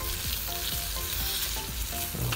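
Chicken pieces browning in olive oil in a pan, a loud, continuous close-up sizzle with a few faint stirring knocks, no one talking.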